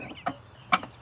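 Two short, faint clucks from a chicken on a homestead, spaced apart against quiet background.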